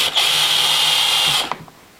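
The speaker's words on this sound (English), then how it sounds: "when we drill the hole" A power drill fitted with a 12mm spade bit bores a hole, whirring loudly and steadily for about a second and a half before spinning down with a few clunks.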